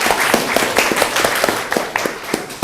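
A class applauding in an Indonesian Pancasila education lesson, many hands clapping close and loud in a quick, dense rhythm that keeps going through the whole moment.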